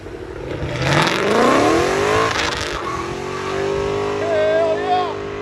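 A 2006 Chevy Tahoe with a 5.3L V8 and true dual straight-pipe exhaust accelerates hard, its loud engine note rising in pitch and then holding steady at a roar, with voices talking over it.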